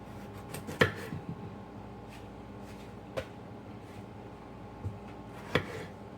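A knife slicing open a thick-walled garden tomato meant for sauce, with a few crisp cuts spaced seconds apart against a low hum of the room.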